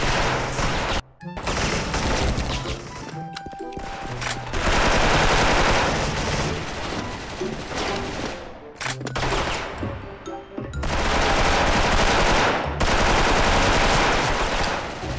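Sustained automatic bursts from a DREAD M4A1 rifle in a shooting game, loud and close, broken by a few short pauses and then resuming in long rattling strings.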